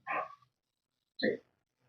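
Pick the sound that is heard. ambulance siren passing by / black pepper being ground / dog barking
dog barking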